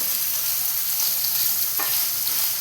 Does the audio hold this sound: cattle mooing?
no